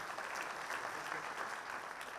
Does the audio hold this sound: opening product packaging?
no